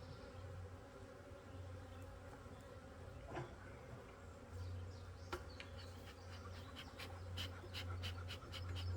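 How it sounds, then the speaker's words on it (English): A honeybee swarm buzzing around comb while being moved to a hive, a dense continuous drone of many bees, close and steady, with a few sharper passing buzzes near the end. "there's a lot more bees on that comb"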